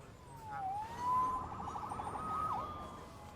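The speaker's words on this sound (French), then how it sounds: "Sauvé par les sirènes." Police sirens wail in a Spider-Man PS4 game scene, a single rising and falling tone sweeping steadily under a dense, noisy city backdrop, fairly close and prominent throughout.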